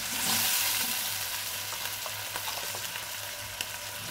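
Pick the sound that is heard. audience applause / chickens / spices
spices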